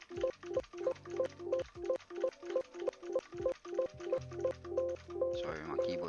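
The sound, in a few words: typing on a loud computer keyboard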